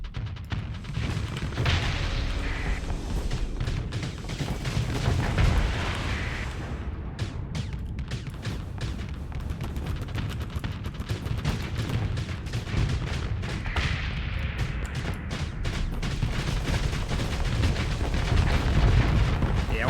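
Spaceship missiles launching and detonating in a continuous barrage of booming blasts and rumbling impacts during a Starsector space battle, loud and dense throughout with no gaps.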